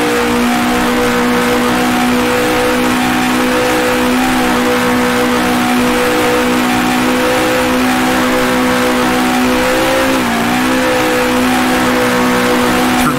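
A 1966 Formula One race car engine in the game Grand Prix Legends, at the Belgian Grand Prix, drones steadily and loudly throughout, with a brief pitch dip and shift near the end as it revs, no voices.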